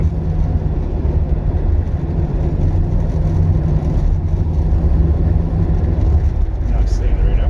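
A classic British car, a Rover or a Triumph Stag, drones steadily along a country road with an even rumble and road noise, while people chat inside.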